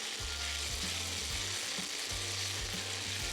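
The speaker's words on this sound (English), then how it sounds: "add 1/3 cup of diced onion and let that saute until your onions are translucent" Sausage meat and diced onion sauté in a pan with a constant close sizzle and frying hiss, broken by low scraping stirs as the food is moved around, with no voices.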